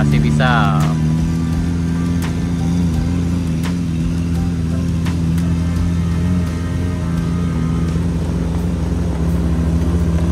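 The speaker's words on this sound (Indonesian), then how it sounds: "Emang kalau kendaraan di sini emang nangis nanjak di sini sana" A vehicle engine labors steadily up a steep road at Alahan Panjang, a low drone held the whole time with a few faint clicks on top.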